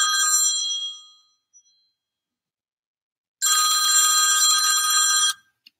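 A telephone rings in a bright electronic trill, one ring fading out, a pause of silence, then a second, longer ring that cuts off abruptly.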